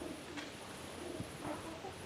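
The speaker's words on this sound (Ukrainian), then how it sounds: "Що цікаво, що це за голубець" A pigeon coos close by in soft, low, rounded calls repeated a few times over steady faint background noise.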